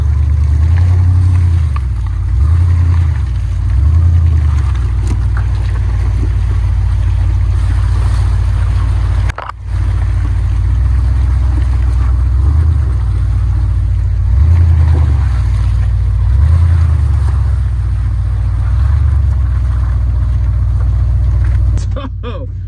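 A four-wheeler with non-working four-wheel drive stuck on a muddy wooded trail, its engine droning loud and close as it revs in repeated surges while the wheels spin, a voice speaking over it.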